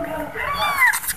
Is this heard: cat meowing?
yes